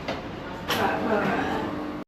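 The muffled rumble of a Bangkok MRT metro train rolls on steadily, with a brief hiss partway through and a voice speaking over it.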